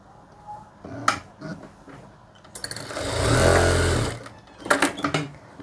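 Sewing machine stitching a salwar, a single steady motor run of about a second and a half in the middle, framed by close handling clicks and taps of the fabric.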